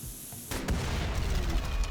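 A loud explosion in the colony-building game RimWorld erupts abruptly and sustains a dense, rumbling crackle of debris and booms, with no talk over it.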